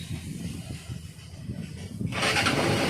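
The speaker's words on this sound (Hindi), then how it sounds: "देखिए बाइक मेरा जो सेल्फ से प्रॉपर स्टार्ट हो गया।" A Hero Xtreme 200R motorcycle sits close by with a low rumbling hum, then its self-starter fires and the engine catches in a sudden loud burst of broadband noise near the end; no voices.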